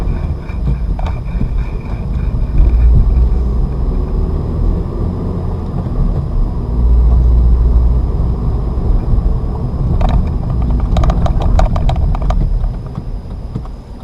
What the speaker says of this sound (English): give small taps of the gas, car's rolling, clutch out, accelerate